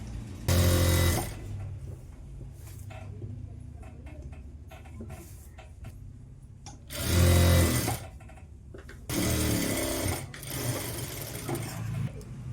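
A sewing machine top-stitches a Punjabi top in three loud, short bursts of rapid mechanical chatter, separated by quieter pauses filled with faint handling noises.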